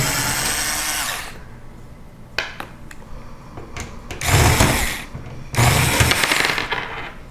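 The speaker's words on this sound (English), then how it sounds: "Screwdriver might be a little too fast." A power screwdriver backs out the side-panel screws on a computer case, a loud whirring motor in two close bursts, each about a second long, with quieter clicks and handling noises between them.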